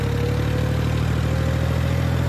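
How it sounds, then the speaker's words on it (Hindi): A tractor engine labours steadily while pulling a heavy load at roughly 1700–1800 RPM, its water-ballasted tyres gripping without much slip; a loud, constant, close diesel drone with a strong low hum and no pauses. "ट्रैक्टर बहुत जबरदस्त लोड खींच रहा है"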